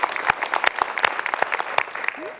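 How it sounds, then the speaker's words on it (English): Audience applause for city staff and local businesses at a city's State of the City address, a burst of many hands clapping with sharp individual claps standing out, fairly close and steady for a couple of seconds. "Round of applause for the staff and our businesses."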